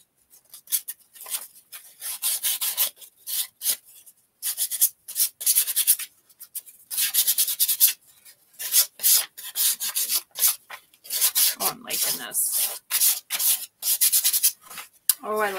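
Rhythmic sanding strokes rasp back and forth against wood painted with milk paint in short repeated bursts with brief pauses between, close and fairly loud.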